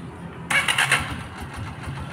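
A Honda TMX 125 motorcycle in stock condition, set up as a street bike, starts quickly with a sharp burst of starter and ignition, then settles into a low, steady idle nearby, with no voice.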